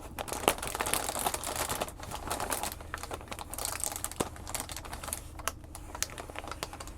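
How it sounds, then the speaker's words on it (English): Thin plastic being crinkled close up, a steady soft crackling texture of many tiny snaps with no talking. "And it makes some great crinkle sounds."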